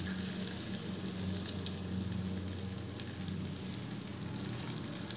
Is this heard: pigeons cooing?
no